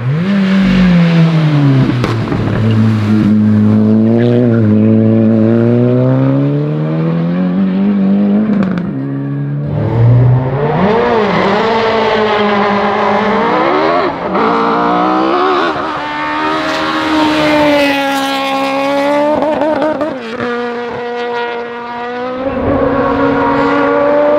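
A Volkswagen Polo R1 race car at the 2022 Kitzeck hill climb sounds close and loud, its engine revving hard and rising through a series of gear changes with brief lifts between pulls, sustained for the whole stretch.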